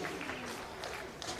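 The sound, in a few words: applause for a runner at a track championship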